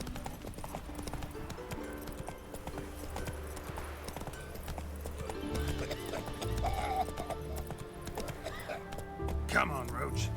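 In The Witcher 3, the horse Roach gallops in a quick, rhythmic clip-clop of hooves with a whinny, layered over game ambience and background voices.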